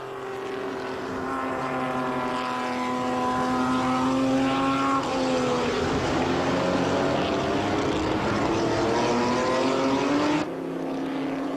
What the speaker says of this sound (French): L'autre TVR engagé, une 400, navigue en milieu de peloton, encadré par un paquet de Porsche, d'Austin Hillet et d'Alfa Romeo.